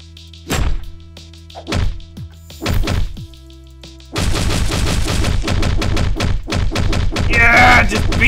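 Gunfire in Hotline Miami 2: Wrong Number in a subway level: a few single heavy shots spaced apart, then a rapid run of close, punchy shots that keeps going to the end.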